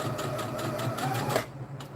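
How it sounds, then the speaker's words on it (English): Sewing machine running a short back stitch to secure the seam, a steady mechanical whir with a rhythmic needle pulse that stops near the end, close up and alone. "And with this again, I just do the back stitch"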